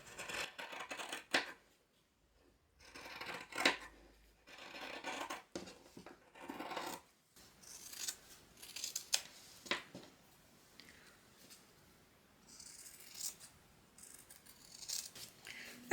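Scissors trim the lining fabric of a handbag with rolled handles, making a series of close, crisp snipping and rustling bursts separated by short pauses, with no talk over them.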